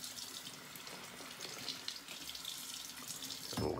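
Water running steadily from a tap into a sink while shaving soap is lathered with a brush, a continuous close splashing hiss with a brief louder gush near the end.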